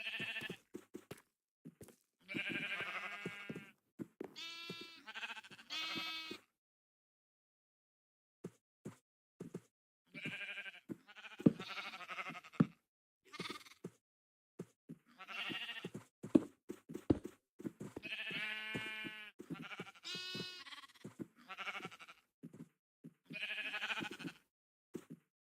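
Minecraft sheep give repeated short, nasal bleats in clusters separated by pauses, with occasional soft plops and knocks from the game in between.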